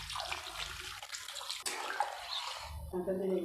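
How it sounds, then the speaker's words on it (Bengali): Water is poured into a pan of eggplant and potato curry for boiling, a close splashing gush that lasts a few seconds before tapering off as a voice speaks. "সিদ্ধ করার জন্য পরিমাণ মতো জল দিয়ে দিলাম।"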